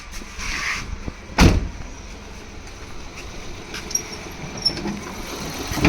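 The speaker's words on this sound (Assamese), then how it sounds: "গাড়ীটো ষ্টাৰ্ট হৈ আছে, মই দেখাই দিছোঁ।" A secondhand Maruti 800 car idles with a low, steady engine rumble, broken early by a single sharp clunk and later by a few faint clicks.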